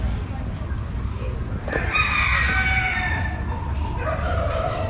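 A cockerel crows once, loud and close, a drawn-out call over a low rumble of background noise and faint activity.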